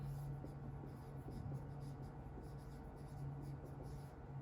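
Marker or chalk scratches faintly across a board in short, repeated strokes while a math equation is written out in a quiet room.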